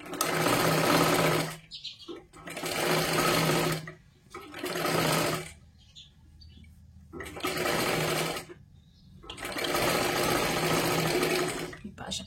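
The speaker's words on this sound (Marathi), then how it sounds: "आता ह्याच्यावरतीच अजून एक आपल्याला डबल शिलाई घ्यायची आहे." A sewing machine runs a double line of stitching along a princess blouse seam in several bursts, each lasting a second or two, with short quiet gaps between runs.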